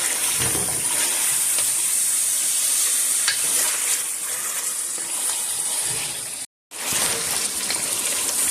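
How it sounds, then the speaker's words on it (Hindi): Desi chicken masala roasting in a pan, a loud, steady close sizzle with scraping and stirring that runs for several seconds, breaking off briefly near the end before resuming; no one speaks. "जी इसको हम अच्छी तरह से भूनेंगे।"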